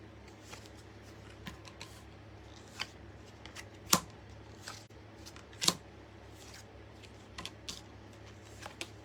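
Cards being drawn from a deck, quiet soft slides and flicks with a couple of sharper snaps, sparse and close in a hushed room.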